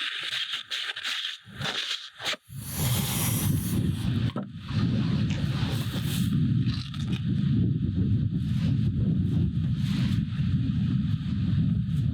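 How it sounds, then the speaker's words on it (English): Wind buffets the microphone outdoors with a loud, rumbling roar, starting in gusts and then blowing steadily. "A little windy out."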